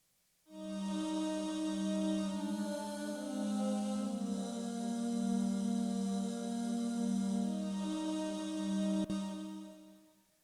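An Arturia Emulator synth playing the Voices choir preset holds one sustained, airy choral chord for about nine seconds. It swells in softly, stays steady and fairly loud, then ends with a brief click and no talking.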